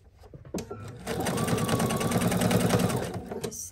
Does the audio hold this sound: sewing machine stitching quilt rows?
yes